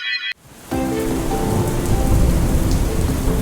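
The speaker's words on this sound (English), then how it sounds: "The storm raged on all night." Heavy rainstorm with thunder, a loud steady roar of rain and rumbling thunder starting after a brief cut, up close and continuous.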